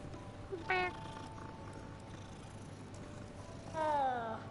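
Cat meows in the video game Hogwarts Legacy: a short meow near the start and a longer, drawn-out one at the end, fairly clear over quiet game ambience.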